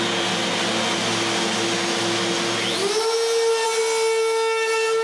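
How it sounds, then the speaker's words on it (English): A power sander working over the base of a cedar patio table, giving a steady loud motor whine with a hissing abrasive wash; the motor pitch shifts partway through and then holds steady. "while the glue is drying, we can sand the base"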